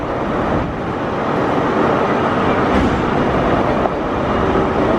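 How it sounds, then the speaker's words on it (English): A London Underground train rumbles steadily, a loud continuous roar of wheels and carriage noise with occasional clicks over the track. "catch our underground train"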